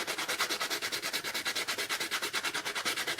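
Rapid, rhythmic dry scrubbing against a metal stove burner, steady back-and-forth strokes at close range with no water and no talking.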